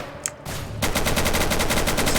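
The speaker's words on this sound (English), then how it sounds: "No more reloads for the machine gun." Rapid sustained machine gun fire in the video game Ancient Warfare 3, loud, fast, evenly spaced bursts starting after a brief quieter lead-in with one shot, no talking.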